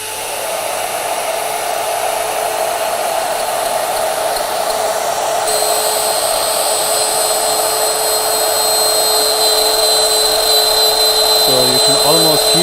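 A CNC router bit cuts 12 mm deep into material at a feed of around 450 mm per minute, giving a steady, loud high-pitched whine with a rising tone near the end and no talk over it.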